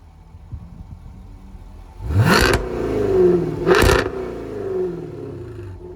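Two sharp, loud revs from a 2016 Jaguar F-Type R with the exhaust open, each a quick rising blast that falls away into a rumbling idle with crackles between.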